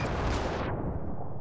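A quad launcher rifle fires at a tank in the Ravenfield video game, a loud, dense blast of shots and explosions that cuts off sharply into a rumbling tail.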